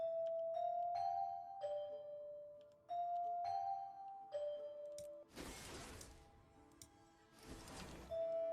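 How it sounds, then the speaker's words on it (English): Christmas bells in the video game Guild Wars 2 ring as a series of clear, sustained chime tones in a stepping melody, interrupted by two loud bursts of broadband noise. "I know what the bells sound like because they're from Christmas"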